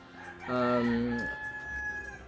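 A rooster lets out a single loud, close crow that rises and falls over about a second, followed by softer background sounds from the chickens around it.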